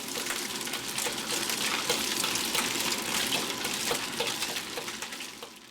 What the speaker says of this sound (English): place a handful of softened scallops and allow them to cook for about 2 minutes, stirring well all the time